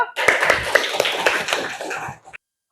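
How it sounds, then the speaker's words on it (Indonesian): A classroom audience gives a short round of applause for a student group after its presentation, brisk clapping from a small crowd lasting about two seconds before cutting off abruptly. "Aplaus buat kelompok 1."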